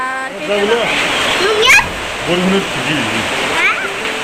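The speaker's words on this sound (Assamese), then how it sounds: "বাহিৰত গোটেই বৰষুণ ৰ'ব মস্ত, গোটেই বৰষুণ বাহিৰত।" Heavy rain falling outside, a loud continuous rushing downpour close by, with people talking over it throughout.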